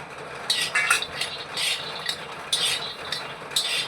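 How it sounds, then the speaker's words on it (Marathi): Peanuts dry-roast on an iron griddle over a gas flame, stirred in quick bursts of close, dry scraping and rattling that come in an uneven rhythm over a quiet background. "गॅसवर आहे ना लोखंडी तवा ठेवलेला आहे त्यावर आपण आता हे शेंगदाणे भाजून घेणार आहोत"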